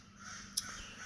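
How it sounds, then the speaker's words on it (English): Crows caw once, a single sharp call cutting through quiet outdoor background noise, moderately distant. "there's some crows over there"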